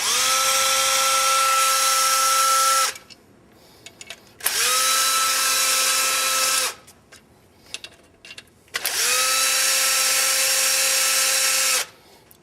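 A cordless power tool backs out clutch cover bolts on a Polaris Ranger in three loud, steady whirring runs of two to three seconds each, close up, with short pauses of clicks and handling noise between them.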